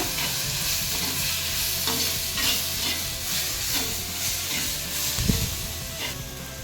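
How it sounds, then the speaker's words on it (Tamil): Ginger garlic paste sautéing in a pan for egg thokku: a continuous close sizzle with rhythmic stirring scrapes and a single sharper clatter near the end. "இதையும் சேர்த்து நல்லா பச்சை வாசனை போகிற அளவுக்கு வதக்கிக்கோங்க"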